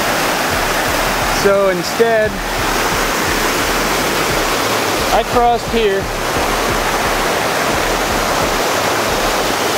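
Rushing high creek water at a trail crossing near Pamelia Lake by Mt. Jefferson, a loud, steady roar filling the whole clip, with someone briefly talking over it twice.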